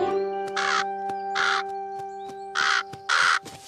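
Crows caw in a cartoon scene: a series of loud, harsh caws in uneven bursts over a steady tonal hum, with no talking.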